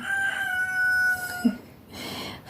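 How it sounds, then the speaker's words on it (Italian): A rooster crows once, a long sustained call that holds steady for over a second before breaking off, followed by a short thump and faint room noise, with no talking. "avete sentito il gallo?"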